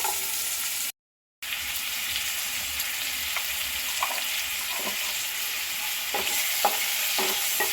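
Sour mango dal base with salt and turmeric stirred in a frying pan: a steady sizzle with repeated close scrapes and taps of the spoon, broken by a brief silent gap near the start, and no speech.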